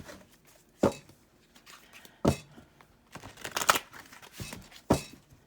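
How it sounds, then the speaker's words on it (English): A large tarot deck being shuffled by hand, giving several sharp riffling bursts and softer rustling card slaps at irregular intervals, close and fairly quiet, with no talking. "I love this deck. It's just hard to shuffle."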